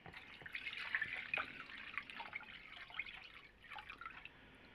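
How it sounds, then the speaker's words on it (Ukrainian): A litre of water is poured into a pot of mushrooms for pickling, a faint, close, splashing trickle with brief drips in a quiet kitchen. "Вливаємо ми сюди літр води у наші грибочки"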